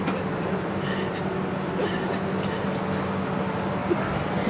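Passenger train pulling out of Dhanbad station, a steady rumbling roll with faint rattling and clanking wagons, continuous and fairly close, with voices murmuring beneath.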